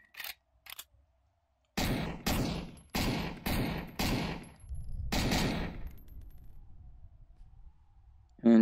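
A gun fires in a VR shooting game: six loud, evenly spaced sharp shots ring out close by after a couple of faint clicks, the last blast trailing into a decaying echo, with no talking.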